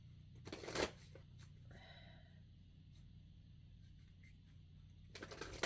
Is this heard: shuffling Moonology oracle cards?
yes